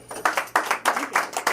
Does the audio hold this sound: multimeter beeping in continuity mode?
no